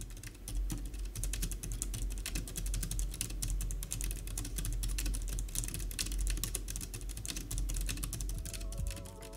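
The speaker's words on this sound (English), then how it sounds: "so let's go for a typing test." Rapid, steady typing on a quiet Japanese BFKB113PBK scissor-switch keyboard, a dense stream of soft, muted key taps running continuously at close range with no talking.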